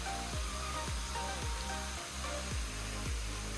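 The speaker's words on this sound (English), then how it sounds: "This is Hickory Nut Falls. Top of Hickory Nut Falls." Hickory Nut Falls at Chimney Rock, North Carolina, heard from the top of the falls: a steady, dense rush of falling water forms a continuous hiss with no voices.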